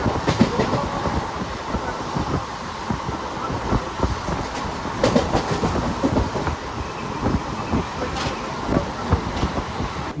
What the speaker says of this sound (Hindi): तो चलो मैं भी ट्रेन में चढ़ता हूँ